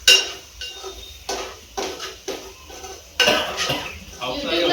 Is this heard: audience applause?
no